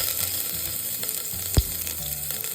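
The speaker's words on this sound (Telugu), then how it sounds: "అల్లం కరివేపాకు బాగా వేగింది" Ginger and curry leaves fry in hot oil with a steady crackling sizzle, broken once by a sharp louder pop midway, with no voices.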